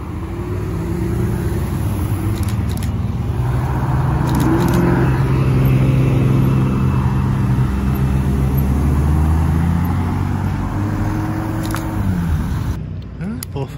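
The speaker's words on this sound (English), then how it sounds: "Rally car seems to be leaving." A rally car pulls away from a car meet, its engine droning loud and steady before fading as it leaves, with open outdoor ambience around it.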